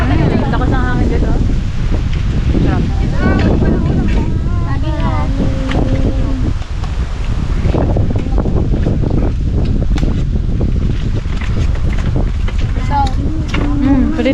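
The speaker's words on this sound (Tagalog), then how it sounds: "Lakas ng hangin dito." Strong wind buffets the microphone in a constant roar, with a boat engine droning and people talking intermittently underneath.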